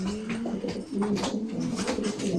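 Flying pigeons coo continuously at close range, a female puffed up while chasing toward egg-laying, with overlapping low, throaty calls and no talk.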